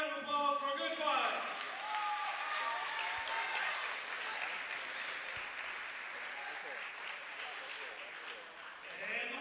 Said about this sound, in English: Let's give him a round of applause for a good fight.